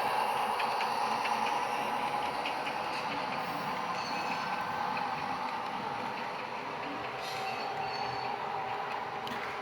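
An HO scale model train led by a D&RGW T1 locomotive runs steadily along the track, giving a continuous close-up rolling hum with faint wheel clatter and no talk.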